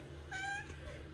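A single short, faint cat meow, thin and plaintive, sounds close against a quiet background.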